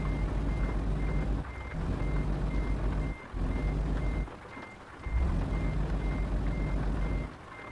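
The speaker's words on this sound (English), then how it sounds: "Look at this truck. It's coming straight for me." In a truck simulator video game, a truck's reversing alarm beeps in a steady repeating pattern over a low, continuous engine rumble.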